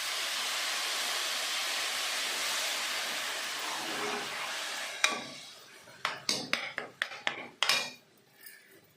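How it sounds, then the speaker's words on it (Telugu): Water pours steadily into an onion and brinjal curry for about five seconds, a close rushing splash, followed by several sharp metallic clanks of utensils against the pot. "ఇవన్నీ నీళ్ళు పోసుకోవాలి"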